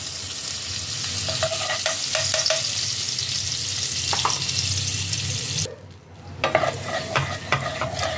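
Butter melts into hot white oil in a pan, giving a loud, steady sizzle and hiss with a few spatula taps, then a brief drop before the crackling picks up again; no one talks.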